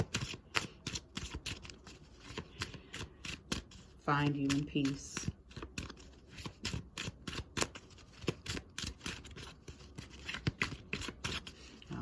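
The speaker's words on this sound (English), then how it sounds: "Cut it one time and then I'll go with the card that is on the top." Tarot cards shuffled and cut during a reading, a short burst of riffling slaps and rustles sitting under a woman's steady, continuous talking.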